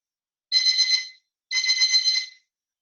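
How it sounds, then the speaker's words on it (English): Two short electronic beep bursts, each about half a second of buzzing trill, separated by a brief pause and then silence. "As soon as the timer beeps."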